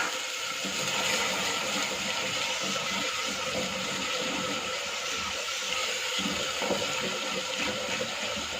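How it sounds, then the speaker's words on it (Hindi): Steady rushing water pours continuously for several seconds, close and fairly loud, like water running into a cooking pan over garlic-ginger paste for Lahori murgh channay, with no speech. "पानी ऊपर से लगाएंगे थोड़ा।"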